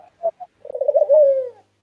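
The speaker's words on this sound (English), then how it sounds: "I'm just gonna sit here and listen to the bird real quick" A pigeon or dove coos nearby, two short soft notes followed by a longer rolling coo that slides down in pitch, clear against silence.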